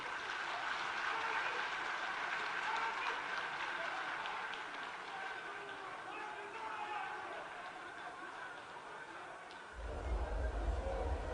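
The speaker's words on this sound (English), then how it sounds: "Another round of applause for the General Secretary." A large crowd applauds at an NDC 2024 manifesto launch rally in Ghana after a speech, sustained clapping mixed with cheering that carries on steadily and swells again near the end.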